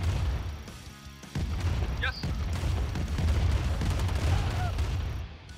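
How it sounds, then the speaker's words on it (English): Airstrike explosions in the Command and Conquer Remastered video game rumble as a sustained run of booming blasts, with a voice speaking over the din. "now I get an airstrike"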